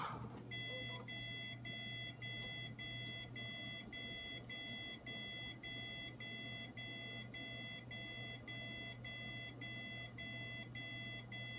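A broken Dell computer that will not power on gives out a steady run of evenly spaced electronic beeps over a low hum, quiet and unchanging, with no one speaking.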